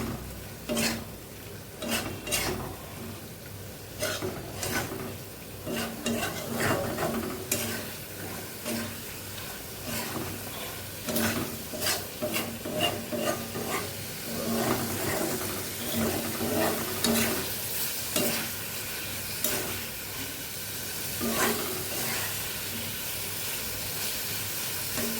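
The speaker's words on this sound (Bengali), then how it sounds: "বাটারটা দিয়ে মশলার সাথে ভালো করে একটু আলু পটলটা দিয়ে আমি এখন ভালো করে আর একটু কষে নেব।" Potato and pointed gourd frying with spices in butter, a continuous moderate sizzle and hiss with repeated scraping and stirring clicks of a spoon against the pan, no talking.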